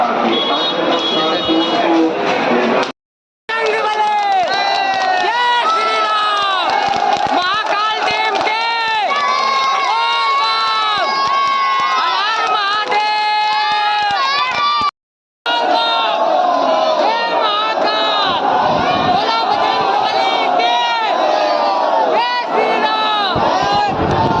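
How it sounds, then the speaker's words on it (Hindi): Dense crowd of pilgrims at Hanuman Garhi temple in Ayodhya during a kanwar yatra, with loud continuous chanting, shouting and many overlapping voices close by, broken by two brief silent cuts. "आप लोग देखो इतना बहुत ज़्यादा भीड़ है।"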